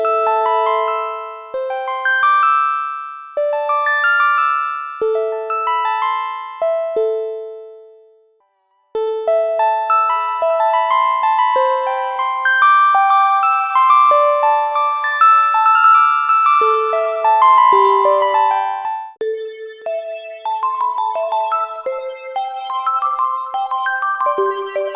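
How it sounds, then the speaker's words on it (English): Calming bells keyboard preset on a Logic Pro synth: a soft chiming melody of sustained bell tones with reverb, a short pause near nine seconds, then denser ringing chords and lighter plinks, played alone without talk. "calming bells."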